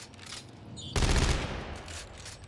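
Gunfire from the sci-fi horror video game Dead Space 3: a sudden loud burst of weapon fire about a second in, with a dense blast and a decaying rumble trailing off under faint game ambience.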